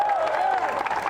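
Crowd at a disc golf tournament applauding and cheering after a throw, a steady wash of clapping with scattered voices over about a second.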